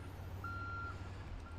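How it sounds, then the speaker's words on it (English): A van's reversing alarm in the zombie survival game Project Zomboid, a single high electronic beep held steadily, then a short second one, over a low continuous engine drone, no talking. "Should have chose a better van with no beeping."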